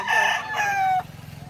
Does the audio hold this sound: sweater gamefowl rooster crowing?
yes